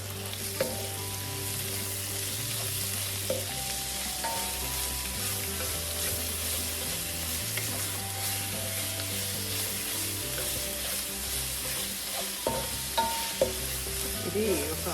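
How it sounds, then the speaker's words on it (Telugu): Chopped ginger and garlic fry in oil in a pan for chicken curry, a continuous close crackling sizzle with occasional spoon scrapes and stirring clinks, steady and unbroken, with no talking. "అల్లం వెల్లిపాయ వేయడానికి మంచి స్మెల్ వచ్చేదాకా వేయించుకుంటేనే కర్రీ బాగుంటుంది"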